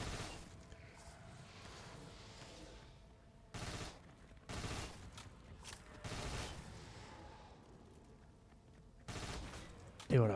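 Gunfire from an upgraded MacTav weapon in a video game, bursts of rapid shots in several short clusters over a quiet background, with a voice talking in the mix.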